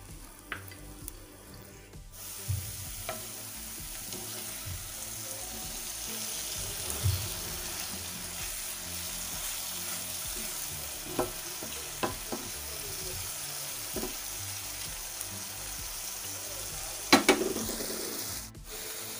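Paneer pieces frying golden in a pan, a low steady sizzle with scattered clinks and scrapes of utensils and a sharper clatter near the end, fairly quiet throughout.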